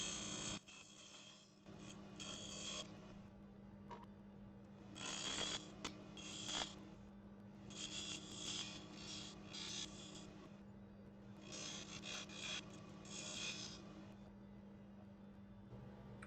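A wooden goblet stem spins on a lathe while abrasive is pressed against it, a steady motor hum under repeated bursts of bright rasping friction, close and continuous, no speech.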